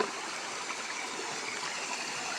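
A small river stream flowing steadily, an even, close rushing and gurgling of water with no other sounds.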